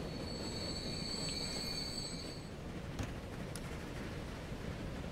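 A train running on rails in the Transport Fever 2 simulation game gives a steady rumbling roll with high wheel squeals over the first half and faint clicks, with no voices.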